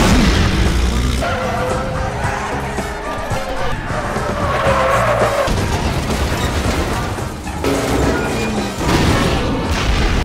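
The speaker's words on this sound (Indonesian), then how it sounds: "datang membawa truk bermuatan hidrogen dan langsung menabrak blokade itu" A truck loaded with hydrogen smashes through a police blockade in a movie action scene. Loud crashing impacts, booms and grinding metal roll on amid engine roar and scattered clatter for several seconds, without dialogue.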